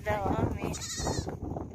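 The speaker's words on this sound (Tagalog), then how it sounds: "Yan yung mga kambing namin." Farm goats bleat nearby in a short wavering cry, quickly overlapped by a person talking.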